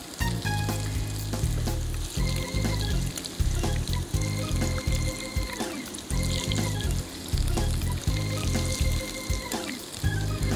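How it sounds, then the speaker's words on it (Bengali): Food pieces frying in a pan for a macaroni recipe, a steady loud sizzle with crackling that shifts as the pieces are turned, with no talking over it. "দুই পাশেই ভাজা হ্যাঁ দুই পাশে ভাজা তবে এটা কিন্তু আমি দুইবার ভাজব"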